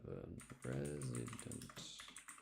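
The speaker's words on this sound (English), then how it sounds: "Oh, you can hear my loud ass keyboard now." Loud mechanical computer keyboard being typed on in a gaming setup, rapid clustered clicks and clacks close to the microphone, with someone talking over much of it.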